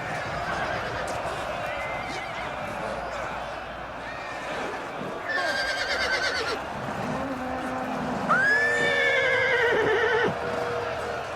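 Horses of lightly armored horsemen and Persian scouts in a 4v4 Attila battle video game whinny and neigh over a busy battle din with clopping hooves, while a voice talks throughout.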